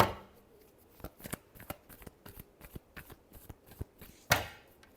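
Tarot cards being shuffled give a quiet run of crisp, irregular flicks and taps, ending in a sharper riffle.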